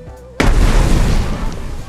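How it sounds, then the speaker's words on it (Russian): A grenade goes off in the survival game Mist Survival, a sudden loud boom that cuts through a quiet background and rolls into a long, rumbling decay. "Если поменяли звук гранаты, как бы там патроны туда-сюда, но гранатку надо проверять."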